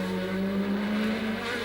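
A 1984 Formula One race car roars down the back straight at Zolder, a loud, sustained high-revving engine note holding steady as it passes close by.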